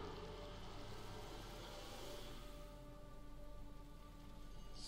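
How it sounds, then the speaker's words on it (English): Steady rain conjured by a spell in Divinity: Original Sin falls as a dense, even hiss of drops on surfaces, continuous and fairly soft with no talking. "Let's go ahead and cast a rain."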